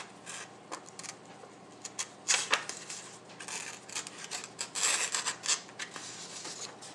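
A Kershaw Rake folding knife with a flat-ground blade carving a curl from wood: close, dry scraping strokes in uneven bursts, rising and falling in loudness, with no talking.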